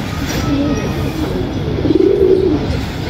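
Cooing of pigeons kept for sale, low murmuring coos with a louder burst near the end, over steady background noise.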